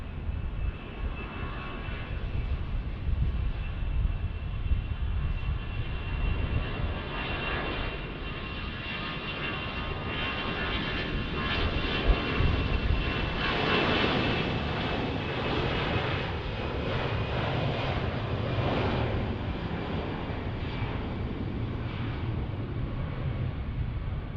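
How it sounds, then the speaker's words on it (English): An Airbus A320 takes off at Dallas Love Field, a loud, continuous jet engine roar heard from a distance that builds gradually and stays steady throughout, with no talking. "An A320, an aircraft you will not see too often here in Dallas Love Field, taking off."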